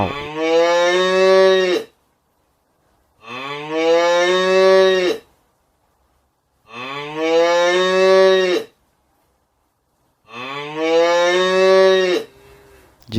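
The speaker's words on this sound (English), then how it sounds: "Cow." Four long, deep moos from a cow, each lasting nearly two seconds and separated by silent gaps, sound loud and close with no speech.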